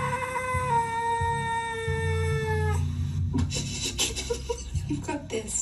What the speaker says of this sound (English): Ever seen a constipated kitten before?